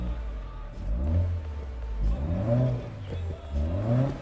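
Toyota 86 engine in the Japanese Drift Master racing game, revving up and dropping back in repeated rising sweeps, close and prominent with no speech.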